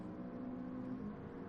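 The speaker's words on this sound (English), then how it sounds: "If you can hear the car in the background," Subaru race car in the GT Sport video game, a steady faint engine drone with a held tonal whine, continuous and unchanging in the background with no talk.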